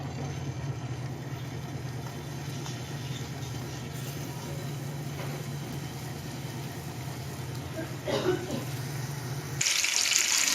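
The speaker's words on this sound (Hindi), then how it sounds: "पैन में हल्का सा हमने ऑयल डाला हुआ है और इसको हम करेंगे फ्राई बिल्कुल हल्के से ऑयल में।" Chicken dum kebabs frying in a little oil in a pan, a steady close sizzle holding throughout, briefly joined by louder hissing near the end.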